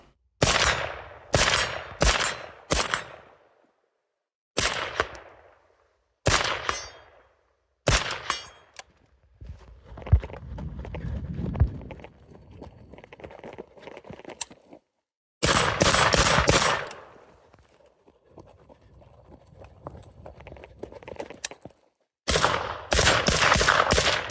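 A suppressed American Bastard AK rifle firing 7.62x39 rounds outdoors, loud in short bursts and single shots separated by pauses, with muffled background noise between strings.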